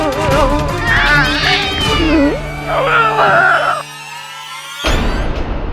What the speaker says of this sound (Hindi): बिल्ली कहाँ है तुम्हारी? ये बिल्ली इधर। अरे बिल्ली किधर गई? बिल्ली, एंजल,